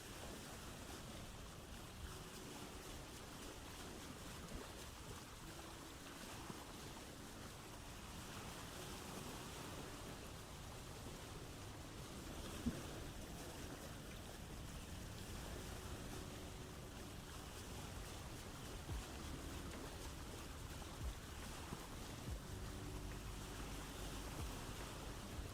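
A boat sails across open water in the survival game Vintage Story, with a steady, faint wash of waves and wind rolling on without a break.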